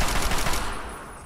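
Rapid automatic gunfire from the player's weapon in Fallout 3, a loud close burst of shots that breaks off and rings out into a fading tail.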